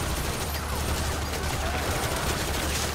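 Gunfire from the video game Metal Gear Solid V: The Phantom Pain, a steady wash of distant shots blurring into one continuous battle din.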